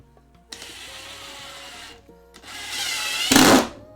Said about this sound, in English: let's add more screws, first of all